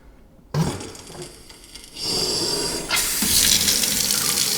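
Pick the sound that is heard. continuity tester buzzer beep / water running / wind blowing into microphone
water running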